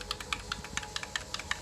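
Computer keyboard keys on a retro Pentium 4 machine sitting in its BIOS are tapped in a quick, uneven run of about a dozen light clicks, faint and close, with no talk.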